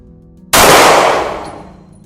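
A single sharp Glock 19 pistol shot, loud and close, with a quick decaying ring and echo after the crack.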